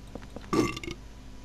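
A monster in the survival-horror game Silent Hill 4 lets out one loud, wet, gurgling burp that swells and trails off into rumbling, with quieter creaks before it and no talking.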